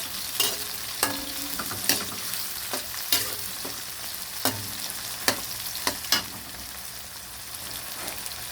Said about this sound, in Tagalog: Palutuin muna natin yung ating kamatis.